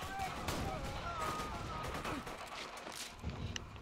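Assault rifle fire in the shooter game Borderlands 2, quick bursts of shots at moderate volume with a person talking over the action.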